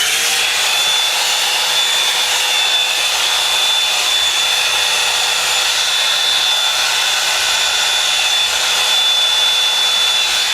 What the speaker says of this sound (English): I'm gonna blow dry this part just to have it as smooth as possible using the Revlon like blow